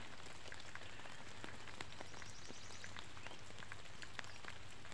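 Rain falling over rice fields in the countryside, a soft, even hiss of drops on wet ground and leaves, with some louder individual drops now and then, steady throughout and with no voices.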